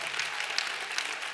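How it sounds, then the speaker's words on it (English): Applause from an audience at a teacher leader summit, a broad, steady patter of many clapping hands held at moderate level for a moment with no voices over it. "Give yourself a round of applause"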